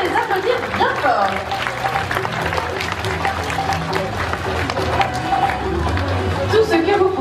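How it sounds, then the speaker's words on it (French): A crowd around the pool at a Beauval ZooParc sea lion show claps for two sea lions, with lively, continuous applause mixed with voices and background chatter. "on peut les applaudir bien fort"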